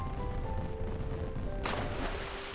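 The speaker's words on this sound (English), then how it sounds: "the sky is filled with a rainbow of fireworks." A firework burst in an animated Little Mermaid read-along, a sudden noisy bang that breaks in partway through over a constant hiss of background music and sound effects, fairly quiet overall.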